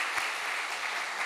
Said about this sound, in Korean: 우리 유년부 교사들, 초등부 교사들, 또 유치부 교사들 수고했는데 박수하겠습니다.